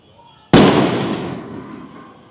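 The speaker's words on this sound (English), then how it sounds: "Those are just fireworks." Outside during a downtown Los Angeles street protest, a single sharp firework blast cracks suddenly and loud, then its echo rolls and fades over about two seconds.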